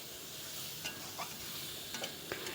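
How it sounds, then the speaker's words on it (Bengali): Mushrooms sauté in a pan, a soft, faint sizzle with a few light scrapes and taps as they are stirred. "মাশরুম দিয়ে আমি আবারও ভালো মতন কষিয়ে নিচ্ছি"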